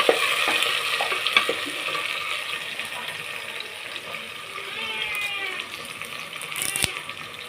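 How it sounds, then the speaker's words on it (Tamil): Taro pieces and tomatoes sautéing in a pan, a moderate sizzle with stirring scrapes and a few sharp utensil knocks, fairly close and steady, with no talking. "நல்லா வதக்கலாம்"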